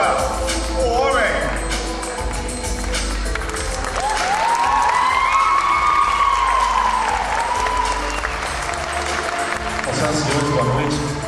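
Loud applause and cheering from a pageant audience as a man takes the stage in Brazil, steady clapping and shouts throughout, with a voice heard over the crowd.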